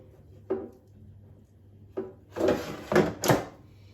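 The drawer of a Ninja Foodi dual-basket air fryer is handled at close range. Two soft knocks are followed by a louder scraping slide and then a firm shut.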